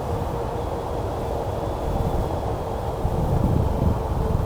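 Wind rushing past a rider on a Philodo H8 AWD e-bike heading into the wind, a loud continuous low roar and buffeting that swells slightly toward the end.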